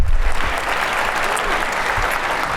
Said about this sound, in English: How about another quick round of applause for Mayor Bibb?